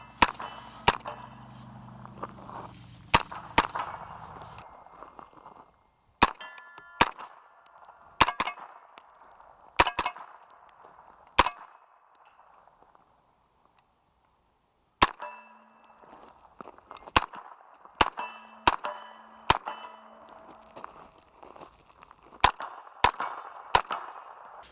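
Gunfire at a night shooting session: sharp, ringing cracks come in irregular bursts, some in quick succession, with brief quiet gaps between volleys and no voices.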